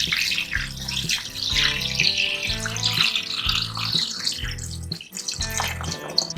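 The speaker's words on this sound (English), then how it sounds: "Top it up with some water again." Water running from a tap into a pot of Guyanese pepper pot seasoned with cinnamon sticks, clove and brown sugar, a steady splashing pour that plays over rhythmic background music.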